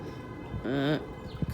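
A voice imitates a siren with a short wavering wail, followed by a bit of speech.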